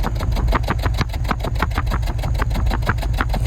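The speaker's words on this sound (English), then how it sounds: "she sounds pretty good" A 2005 BMW X5 with a 4.4L V8 and 156k miles, check engine light on, idles steadily as heard close by the exhaust, giving a loud, even, rapid pulsing rumble with no talking.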